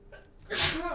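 A single sharp sneeze bursts out after a brief quiet intake of breath, close and fairly loud.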